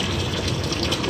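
Water gushes out in a steady, loud rush during blowdown of a steam boiler's low water cut-off, a continuous broadband flow with no talking.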